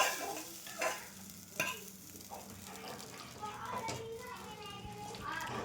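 Moong dal tempering (tadka) sizzling in a home kitchen, a faint frying hiss with scattered stirring clinks, while children play and chatter in the background.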